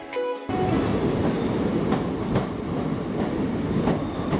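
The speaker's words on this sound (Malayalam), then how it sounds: "ട്രെയിൻ ഇവിടെ നിർത്തിയിട്ടിരിക്കുകയാണ്." Train running at Aryankavu railway station on the Kerala–Tamil Nadu border, a steady loud rumble of wheels and carriages after a brief quieter start, with faint rhythmic clatter throughout.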